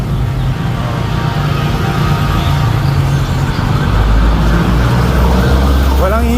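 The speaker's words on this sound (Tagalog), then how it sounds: "Walang hihinto ang ingay ng ano, ha? Mga sasakyan, no?" Nonstop street traffic on Antipolo Street in Sampaloc, Manila, a dense, steady roar of passing cars, buses and trucks with engine rumble close by and no pauses.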